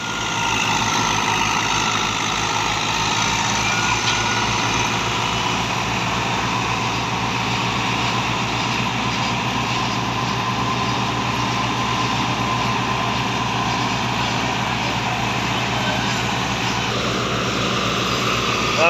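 A tractor and a wheat thresher run in a field during the Punjab harvest season, a loud, continuous engine drone with a steady mechanical rumble that holds for nearly twenty seconds.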